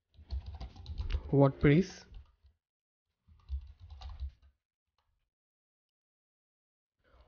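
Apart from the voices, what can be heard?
typing on a computer keyboard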